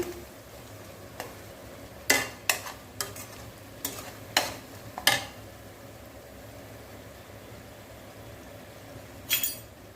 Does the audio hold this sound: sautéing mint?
yes